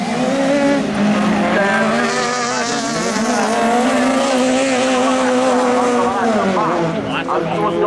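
A loud racing engine roars close by as a Super 1600 rallycross car passes in the 2018 Italian Rallycross Championship, its pitch wavering as it accelerates and shifts, with commentary voices running underneath.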